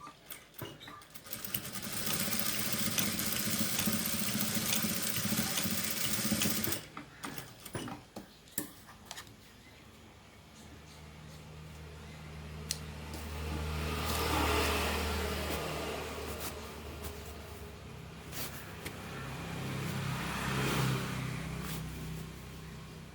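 A sewing machine runs a rough stitch through two layered strips of elastic in a tailoring lesson, first as a loud continuous mechanical whirr, then a pause with scattered clicks, followed by slower rising and falling motor runs.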